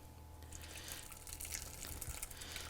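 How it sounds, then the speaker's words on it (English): Espagnole sauce is poured through a metal colander, giving a steady, soft liquid splashing and trickling that runs for a few seconds without pause. "You can strain it with this colander"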